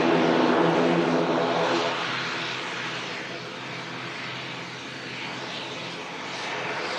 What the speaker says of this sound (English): Beautiful Loganair ATR in from Newquay